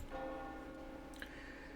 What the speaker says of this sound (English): Until the distant bells chimed, as if declaring or beckoning.